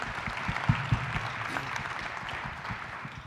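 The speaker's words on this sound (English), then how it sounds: "give us a round of applause for these gentlemen" Audience applause for speakers at a health launch event, modest clapping from a small crowd, steady and moderately faint, with a few louder claps near the start.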